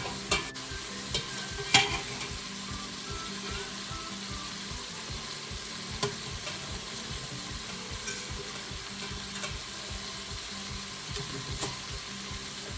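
Meatballs brown in a tablespoon of oil in a pan, a continuous close crackling sizzle with a few sharper pops and light utensil knocks, steady throughout.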